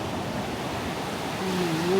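Waves at the beach in Šventoji wash in as a steady, broad surf rush, joined by a brief tonal voice near the end.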